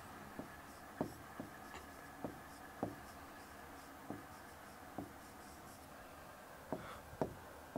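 Someone rewrites a word after it was erased, likely on a board during an economics lesson, with a string of faint tapping and scratching strokes at an uneven pace over a steady background hiss.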